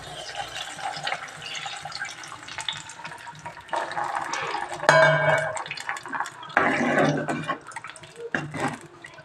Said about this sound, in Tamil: இப்போ அந்த புளி கரைசலை இதில் சேர்த்துக்க போகிறோம்.